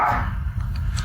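Dog barks close by over a low rumbling background, a brief, muffled burst with no voices heard.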